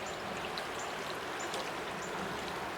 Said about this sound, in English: The river is beautiful, but it's a little deep and a little flowing.